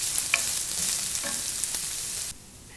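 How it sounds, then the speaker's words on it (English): Red onions browning in a pan for Punjabi chole sizzle steadily with a few light stirring scrapes, then the sizzle drops abruptly to a quieter hiss near the end. "my onions have been browning for the past few minutes"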